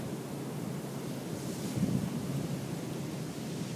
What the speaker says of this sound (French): Sous la musique des vagues